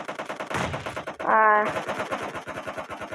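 Rapid bursts of video game gunfire rattle in quick succession, with a brief electronic tone partway through, loud and close, with no voices over it.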